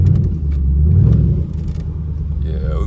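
A Chevrolet Malibu drives past with a loud, low engine rumble that swells and then fades as it moves away, while people talk nearby.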